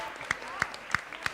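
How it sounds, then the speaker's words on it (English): Audience applause at a school quiz grand finale, a thin wash of many hands clapping with a few sharper, evenly spaced claps standing out, moderately distant and steady. "Give them a big round of applause"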